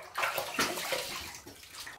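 A safety razor rinsed under running water, a close splashing rush of tap water with uneven sloshing over two seconds, no speech.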